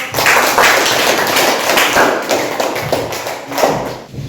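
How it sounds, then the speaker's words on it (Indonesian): Students in a classroom clap for a group of classmates, a close, loud patter of uneven handclaps with some thumping, lasting a few seconds without talk. "Kita berikan tepuk tangan buat kelompok"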